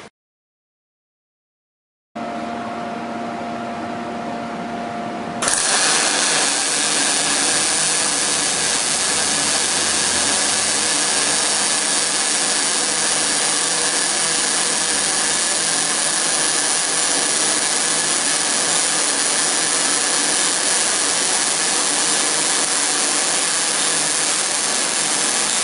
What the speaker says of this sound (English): So let's go ahead and lay a couple weld beads down and see how they look.